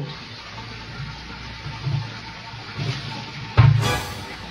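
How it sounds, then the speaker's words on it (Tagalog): Water runs steadily from a tap, swelling into a louder gush near the end. "Dami ng tubig, patay mo yung tubig."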